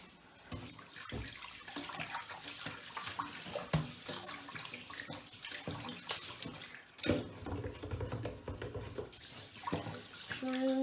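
Water swirling and gurgling down a kitchen sink drain, a continuous close rush with bubbling and slurping that rises and falls, and a brief voice over it.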